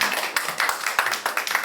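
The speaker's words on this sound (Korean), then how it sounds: "다시 한번 큰 박수" A seminar audience claps together in a quick, steady run of overlapping hand claps, moderately loud and close, with no talking over it.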